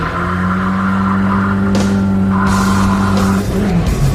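A 1964 Chevy Nova swings backward into a Rockford turn, its tires squealing in a loud sustained screech over the engine drone, with the pitch shifting as the car spins around.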